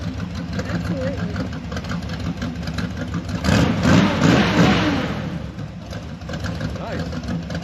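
Chevrolet Biscayne car engine running after a jump start, a steady low idle with a brief swell of revving in the middle, close by and continuous, with a voice talking over it.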